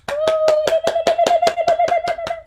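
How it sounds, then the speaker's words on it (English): One person claps steadily into a microphone on a Zoom call after a community sing, about a dozen sharp, close, evenly spaced claps with a faint hum beneath and no talk. "I get to be the clapping noise of all the people in the Zoom land, representing all the people"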